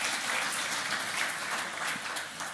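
Audience applause at a Peruvian law conference honoring Delia Revoredo Marsano, a steady dense wash of many hands clapping, fairly close and even throughout, easing slightly at the end.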